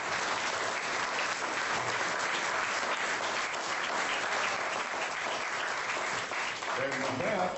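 An audience at a campaign rally in Oskaloosa, Iowa, applauds a speech with sustained, even clapping throughout. It stays fairly faint and distant, and a voice starts up near the end.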